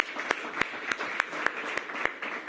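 A small outdoor crowd applauds at a Washington, DC mayoral celebration of the MLK Gateway in historic Anacostia, scattered claps over a steady hiss with a few sharp, evenly spaced hand claps standing out up close.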